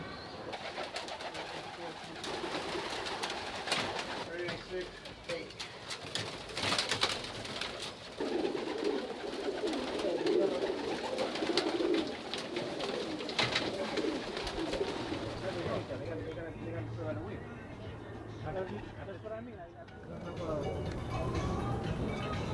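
Pigeons coo steadily on a New York City rooftop loft with nest boxes, soft repeated calls near and far under people talking and a constant outdoor city rumble.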